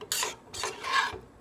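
A spoon scrapes and stirs small white beans in a pan on the stove: three short, quiet rasping strokes with no talk.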